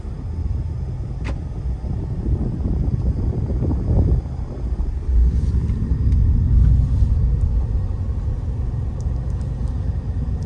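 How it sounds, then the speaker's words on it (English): A 2021 Ford F150 Platinum with a 3.0 Powerstroke diesel and 10-speed transmission accelerating on a street, heard from inside the cab as a loud, steady low rumble that swells slightly midway, with some wind noise and no talk. "Nice smooth acceleration."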